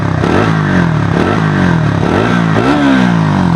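Triumph Tracker 400 motorcycle exhaust revving close by, the engine note rising and falling in several throttle blips with a gruff, grunty tone.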